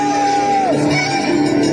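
A loud crowd shouts together at a scissors dance contest in Lima, with one long, drawn-out yell standing out over the roar, close and intense.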